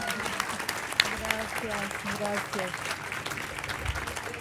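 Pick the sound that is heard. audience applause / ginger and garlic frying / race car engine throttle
audience applause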